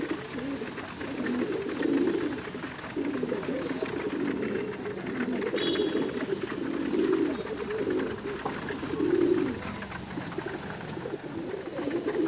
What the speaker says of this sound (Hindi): अब ये कबूतर बंद होने के लिए बहुत अंदर घाई जल्दी करेंगे, देखना